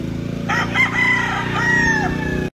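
Rooster crowing on a California chicken farm, one loud, close drawn-out crow rising and falling over steady background hum.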